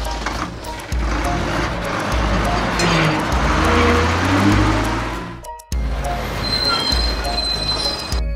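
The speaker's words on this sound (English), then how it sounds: "Paris bus." A cartoon Paris bus drives by with a dense, loud engine rumble and squealing tones that swell midway, a brief drop-out, then a quieter stretch of motor hum with faint high whistles.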